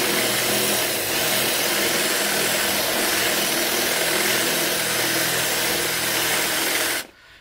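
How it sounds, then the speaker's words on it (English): A power drill with a 3/8 bit grinds steadily and loudly through a metal rivet on a 9th-generation Chevrolet Impala front bumper for about seven seconds, then cuts off abruptly. "I'll find that 3/8 drill bit and drill that rivet off here."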